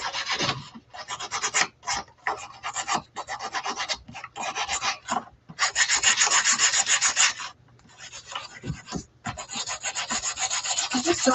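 Small wooden pieces rubbed on a sanding surface, a close, dry rasping scrape in repeated short strokes with brief pauses, then longer steadier passes toward the end.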